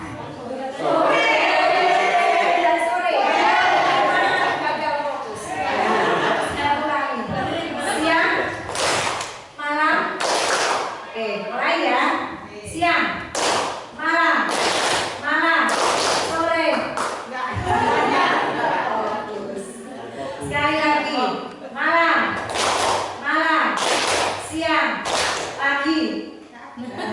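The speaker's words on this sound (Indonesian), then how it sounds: "Terima kasih tepuk tangan untuk kita semua" An audience at an Indonesian teacher training session clapping in short cued bursts of two or more claps, repeated several times between stretches of a presenter talking into a microphone.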